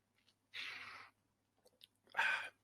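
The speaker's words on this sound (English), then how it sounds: "a sip of Yerba, because Yerba means a good day" Two short, close slurping sips a second apart, the second one louder, with quiet background otherwise.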